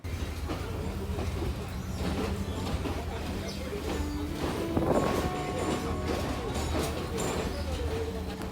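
A train rumbles along steadily with a low continuous roar and rattling, with faint voices mixed in throughout.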